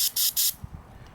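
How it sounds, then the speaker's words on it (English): Aerosol throttle body cleaner sprayed into the throttle body of a 1995–1999 5.7L Vortec engine, heard as three loud, hissing bursts in quick succession, followed by faint low knocks. "You'll want to spray generously on the inside of the throttle body plate"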